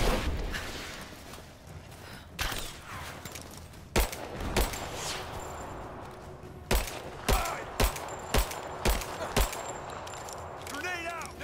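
Bursts of gunfire from the video game Rise of the Tomb Raider, several sharp shots and a rapid run of evenly spaced cracks, loud over quieter game ambience, with a person talking at times.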